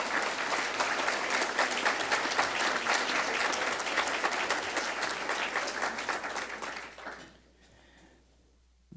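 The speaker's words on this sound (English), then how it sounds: "Give yourselves a round of applause." Guests at a community foundation's 25th anniversary event applaud themselves with brisk, full clapping that gradually fades out into near silence over the final seconds.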